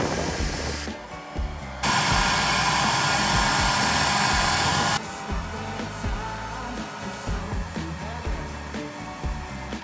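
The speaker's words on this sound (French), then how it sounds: "Faire sécher l'intérieur du phare à l'aide d'un sèche-cheveux." A hair dryer drying the inside of a Renault Twingo headlight with condensation blows in a steady, loud whoosh for a few seconds, with quieter mechanical fiddling and rattling before and after.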